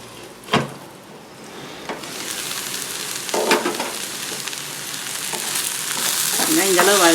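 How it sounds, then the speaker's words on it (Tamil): Okra sautéing in a pan for a Tamil vendakkai poriyal, a steady close sizzle and crackle with a few sharp stirring clatters, the frying growing louder toward the end; faint voice at the very end. "அப்படியே கொஞ்சம் நேரம் வதங்கட்டும்"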